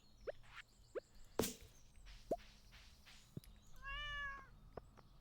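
A cat meows in the farming game Stardew Valley: one drawn-out, tonal meow near the end, preceded by scattered light plops and soft footstep-like game clicks, with no talking.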